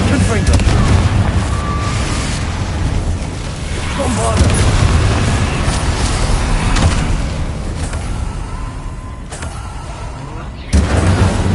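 Explosive spells bursting in Hogwarts Legacy combat, a continuous loud rumble of blasts and booms with a sharp hit near the end, over game noise and speech.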